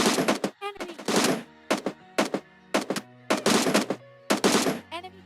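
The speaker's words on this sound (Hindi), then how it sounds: "तो लेवल 3 हेलमेट पे 4 बार M762 का हेडशॉट मारने के बाद ये बॉट मर ही जाता है" M762 rifle fire in the PUBG video game, a series of loud close bursts in a quick stop-start rhythm, about eight separate volleys with brief gaps between them.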